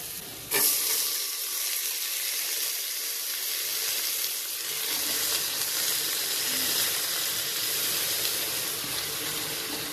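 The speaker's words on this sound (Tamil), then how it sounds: "வெங்காயத்தை போட்டு நல்லா வதக்கணுங்க" Onions sauté in a pan for cabbage poriyal, starting with a sharp hit and then settling into a steady, bright, hissing sizzle that lasts with no talk.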